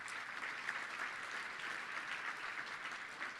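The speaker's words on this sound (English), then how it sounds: "Let's give our volunteers a big round of applause if we can." Faint, distant applause from a touchdown club luncheon audience cheering its volunteers, a steady wash of clapping that holds evenly for a few seconds.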